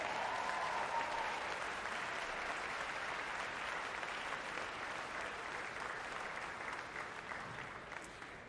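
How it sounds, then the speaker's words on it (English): Crowd applause at the 2019 Rogue Invitational CrossFit competition for CrossFit Invictus Back Bay, a steady, even wash of clapping from a large audience, slightly distant, lasting throughout and fading a little at the end. "One more round of applause for CrossFit Invictus Back Bay."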